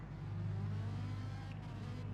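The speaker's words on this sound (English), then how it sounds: "Revs are building up, so the lights are on, and we are good to go." Race car engines in a racing video game hold a steady, loud low drone as revs build on the starting grid, with a sustained harmonic hum and no talk.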